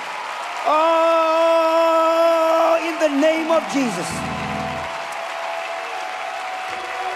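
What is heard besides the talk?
congregation clapping hands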